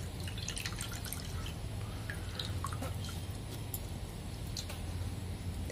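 Scattered small drips and trickles of water from squeezed softened bitter gourds patter irregularly over a steady low hum, fairly quiet and close.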